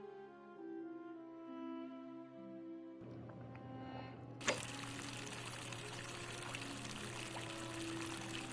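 Water pours steadily in The Forgotten City video game, a continuous splashing stream that starts abruptly and keeps running with a brief sharp knock partway through, fairly close.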